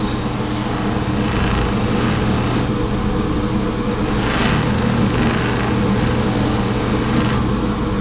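A buffer wheel polishes the metal body of a Kirby vacuum cleaner, a loud continuous motor whir with a steady hum and recurring soft rising swishes as the housing is pressed against the spinning wheel.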